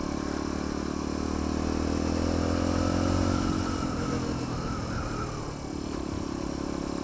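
A motorcycle engine drones steadily while riding along British countryside roads, with wind buffeting and rising and falling engine tone, loud and close with no talking.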